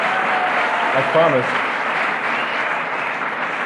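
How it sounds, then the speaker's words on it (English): Audience applause fills a hall during a 1998 sobriety talk in Vancouver, Washington, a steady, dense clapping wash from start to finish with a voice briefly breaking through. "when you people applaud this shit"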